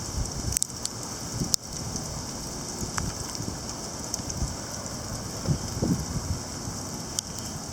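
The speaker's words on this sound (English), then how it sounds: "This stuff's like a hail grapple hybrid because it has a texture." Graupel and hail fall during an early morning storm of linear convection, a dense, steady patter broken by a few sharper isolated ticks of pellets striking nearby surfaces.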